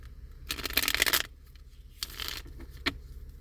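Tarot cards are shuffled in short riffling bursts by hand, a longer papery flurry followed by a second quicker shuffle and a small tap, close and fairly quiet.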